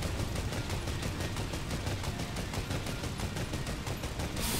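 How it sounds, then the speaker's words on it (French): Machine gun in Fortnite firing a long, rapid, evenly spaced burst of shots lasting several seconds, steady and dense before cutting off abruptly at the end. "Moi, je dis que ça mérite un petit coup de mitrailleuse."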